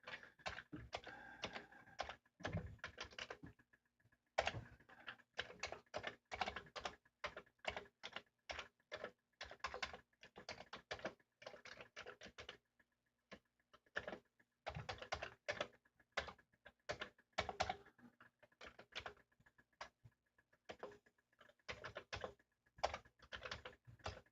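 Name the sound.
typing one-handed on a computer keyboard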